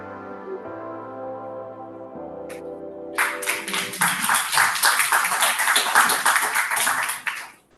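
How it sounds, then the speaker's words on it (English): Audience applause breaks out after a sustained musical tone fades, a dense, lively burst of many hands clapping that swells, holds strongly for several seconds, then cuts off, at a tech challenge information session. "you clapped your hands without my asking"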